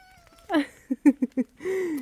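A pet cat greets someone arriving in a garage, letting out a drawn meow, a run of short chirping mews, then a longer rising-falling meow, all close and clear with no talk over them.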